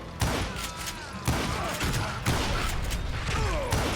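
Gunshots in the Western shooter game Call of Juarez Gunslinger: several sharp, loud bursts spaced about a second apart, each with a trailing rumble, over a continuous game soundscape with no talking.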